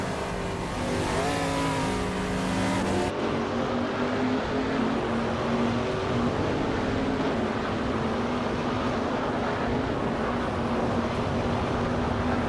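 A Norma M30 race car engine in a racing video game drones at a steady high pitch, its tone shifting with gear changes early on, then holding a constant, loud, close whine.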